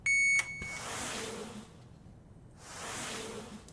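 A short, loud electronic beep sounds at the start inside a video game, followed by soft whooshing ambience.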